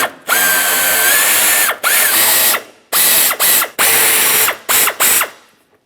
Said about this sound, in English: Let's go ahead and remove all 4 of these and the fog lamp assembly from the vehicle.